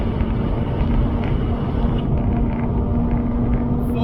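A Mazda RX-8 with a 231 bhp rotary engine pulls hard through the gears, heard as a loud, steady droning rumble from inside the car with wind noise and no clear shift breaks.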